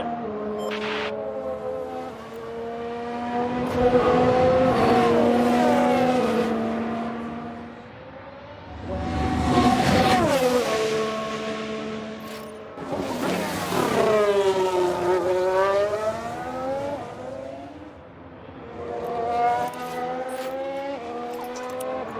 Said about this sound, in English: Sounds like a spin.